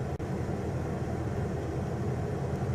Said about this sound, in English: this is on the coldest setting, so it's pumping out air conditioning right now